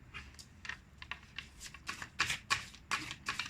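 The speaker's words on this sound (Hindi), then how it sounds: "देख लेते हैं क्या कार्ड्स निकल कर के आते हैं। 8 कार्ड्स लेते हैं" Tarot cards being shuffled in quick riffling bursts, a series of crisp papery flutters repeating at an uneven rhythm, close and moderately quiet with no talking.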